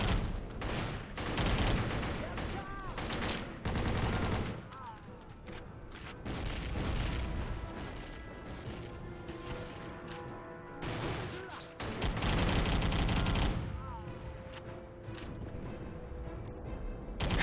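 Sustained video-game gunfire mowing down waves of enemies, loud and dense bursts of automatic fire and booms that run almost continuously, with brief lulls between volleys.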